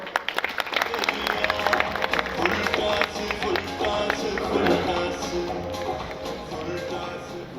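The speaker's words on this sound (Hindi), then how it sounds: "ज़ोरदार तालियों में स्वागत।" Lively applause from a crowd at a farmers' fair in Bahawalpur, dense clapping with some cheering mixed in, fairly loud and sustained throughout.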